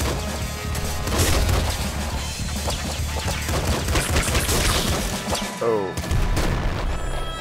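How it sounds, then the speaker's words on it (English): A machine gun firing in the Nuclear Throne video game, rapid continuous shots mixed with booms and crashes, loud and dense for most of the stretch with a brief break near the end. "What is that? Machine gun."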